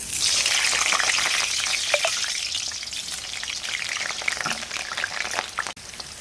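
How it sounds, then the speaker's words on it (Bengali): Potato pieces fry in hot mustard oil, giving a loud continuous sizzle and crackle with occasional spatula clinks and stirring, the hiss easing slightly toward the end. "তেলটা এদিকে গরম হয়ে গেছে। আলুটা ভেজে নেব।"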